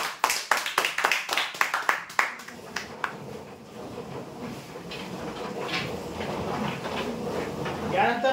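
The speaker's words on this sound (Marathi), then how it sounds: "जोरदार टाळ्या होत्या यांच्यासाठी" Loud applause for prize winners at a weekly lucky draw: a burst of sharp, rapid claps up front that gives way to a dense, sustained wash of crowd noise.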